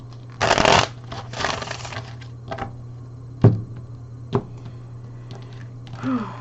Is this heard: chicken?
no